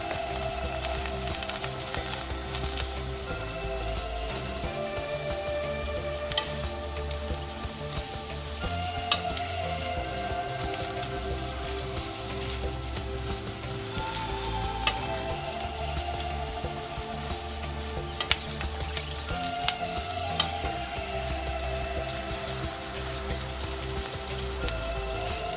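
Garlic stems frying with soy sauce and ground garlic in a pan, a steady close sizzle with occasional clinks and stirring scrapes running through the whole stretch.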